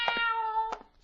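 A boy imitates a black cat's meow on a Halloween night in 1951: two drawn-out, harmonic meows, one long and one short, close and clear with no other talk.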